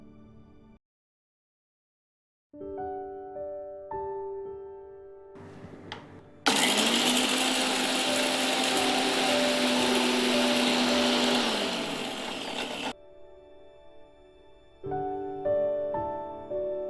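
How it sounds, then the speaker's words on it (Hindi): A mixer grinder pulverises roasted whole spices into chaat masala powder, a loud sustained whirring roar of about six seconds between quieter kitchen clatter and faint background music. "अच्छी तरह से मसाले को हमने ग्राइंड किया है"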